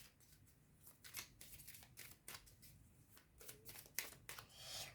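A deck of tarot or playing cards being shuffled vigorously up close, with repeated riffling flutters and snaps in an uneven rhythm, soft but clear with no talking.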